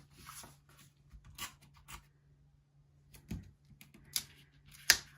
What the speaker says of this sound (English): we can go ahead and tape these down